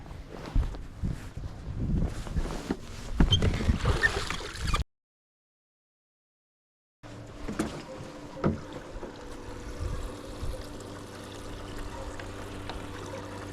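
Bass fishing boat heading back across the water in late winter, a steady engine and water rush with a brief dropout midway, then a lower droning hum as it runs on.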